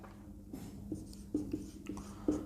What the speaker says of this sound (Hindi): यहाँ लिखता हूँ